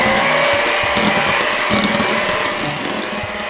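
An electric mixer beats a heaping cupful of Nutella into brownie batter, giving a steady, loud, continuous motor whir with a faint rattling texture throughout.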